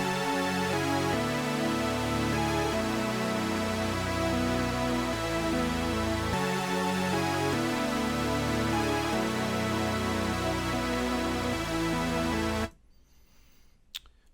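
A full trap beat plays with the lead melody, power chords, heavy sub bass and drums together, dense and loud without any voice, cutting off abruptly near the end.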